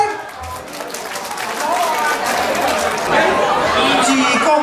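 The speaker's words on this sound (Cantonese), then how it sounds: "掌聲！" Banquet guests at an association anniversary celebration break into applause amid loud crowd chatter, clapping rising and thickening over a few seconds beneath the buzz of voices.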